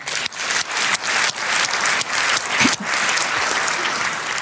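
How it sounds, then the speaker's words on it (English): A lecture audience applauding a researcher in the front row, loud dense clapping that goes on steadily for several seconds and dips briefly in places. "Round of applause for Rob."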